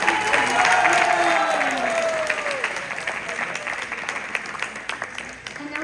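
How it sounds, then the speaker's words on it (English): Graduates at a graduation ceremony receive a warm round of applause: dense, sustained clapping from a crowd, loud at first and slowly thinning out over several seconds. "let's give another warm round of applause to all our graduates here"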